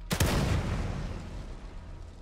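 A single loud gunshot in the video game The Evil Within 2, a sharp close blast followed by a long rumbling decay that fades over about two seconds.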